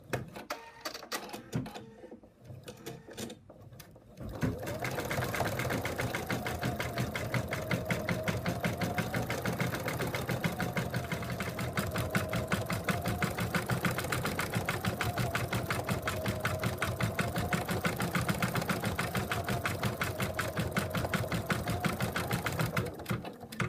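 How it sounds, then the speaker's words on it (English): An embroidery machine stitches a decorative heart pattern in yellow thread on an in-the-hoop purse, running as a loud, fast, steady mechanical whir with a rapid needle rhythm that starts abruptly after a few seconds and continues uninterrupted. "Now back to the machine, and we're going to do the decorative stitch."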